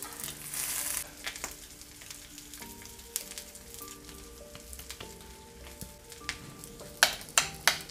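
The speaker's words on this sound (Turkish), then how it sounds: "tekrar sadece köşeleri pişmesi için 30'ar saniye köşelerini pişiriyorum" Fish patties fry in a pan with a soft continuous sizzle and crackle, low-level and close, with a few sharper clinks and taps near the end and no talking.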